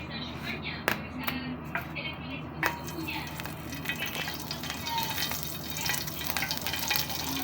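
A small amount of olive oil heats in a pan, giving a steady soft sizzle with a few sharp clicks and taps from the pan, close by, with faint voice-like murmur underneath.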